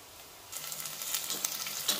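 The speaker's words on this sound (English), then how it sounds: "when the pan is hot, we are going to put chop onion and chop garlic." Chopped onion and garlic dropped into a hot pan begin to sizzle, a soft hiss rising suddenly and continuing with crackling pops and stirring scrapes, close and without talk.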